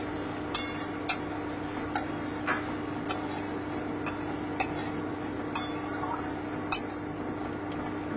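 Ginger paste, green chili paste and coriander powder are stirred in a pan, a metal spoon giving sharp, irregular clinks and scrapes over a faint, steady sizzle-like hiss.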